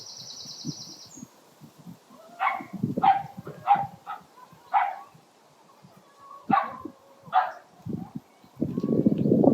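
A local dog barks repeatedly beside a Scottish loch, a string of sharp, moderately distant woofs spaced a second or so apart, with a brief high tone at the start and rustling near the end.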